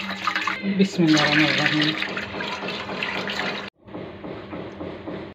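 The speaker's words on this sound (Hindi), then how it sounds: "8 लीटर हम दूध इसमें डालेंगे" Eight litres of milk poured into a pot for kheer, a loud, steady gushing pour close by, cutting off abruptly and followed by a softer, continuing trickle; a voice speaks briefly over the start.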